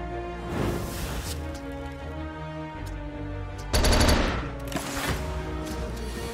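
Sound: gunfire sound effect from the video game Slay the Spire

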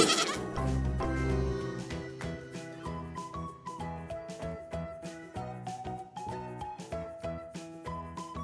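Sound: young goats bleating in a cartoon

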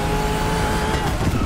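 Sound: car drifting with tire squeal in The Crew Motorfest video game

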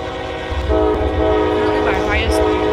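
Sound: train horn in Run8 train simulator video game

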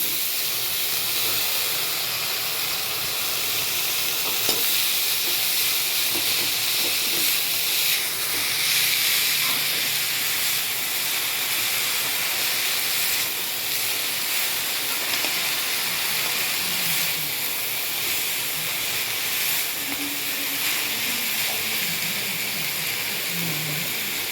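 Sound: greens (keerai) added to frying onions, sizzling

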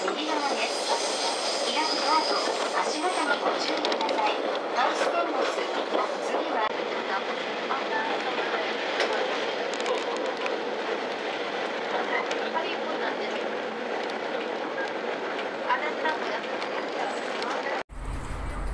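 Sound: sightseeing train arriving at station

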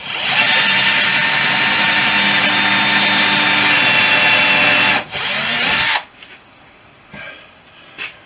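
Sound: power drill back drilling a hole in aircraft window

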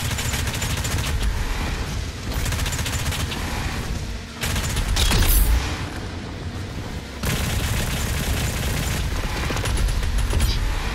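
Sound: missile-firing weapon shooting in the video game Doom Eternal

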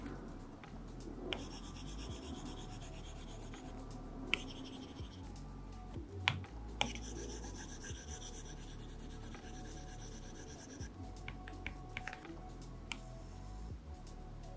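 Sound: stylus writing on matte screen protector

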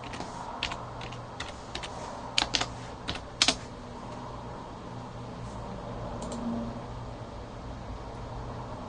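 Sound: typing password on computer keyboard

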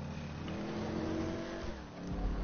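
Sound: car engine revving in a video game

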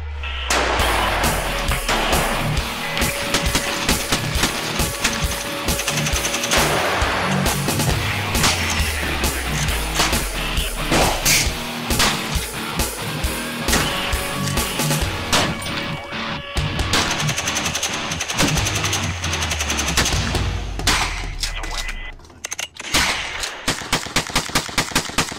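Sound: gunfire at military shooting club

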